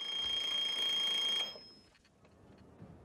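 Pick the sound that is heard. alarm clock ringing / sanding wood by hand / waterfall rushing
alarm clock ringing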